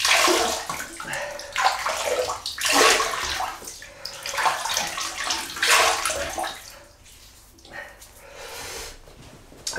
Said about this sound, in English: So I'm just going to wet this face and then we'll get going.